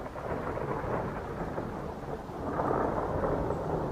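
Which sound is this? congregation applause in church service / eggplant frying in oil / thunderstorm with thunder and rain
thunderstorm with thunder and rain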